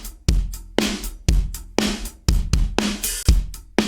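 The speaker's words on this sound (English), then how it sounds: "I'm going to drop an 1176 on the drum bus" Rock drum loop squeezed by an 1176-style FET compressor on the drum bus, with punchy kick and snare hits in a steady beat, aggressive, fuzzy and saturated, loud and close with no talking.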